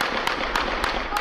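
Sharp gunshots ring out in the streets of Port-au-Prince, Haiti, amid gang violence: four loud cracks spaced roughly a third of a second apart over a steady background roar.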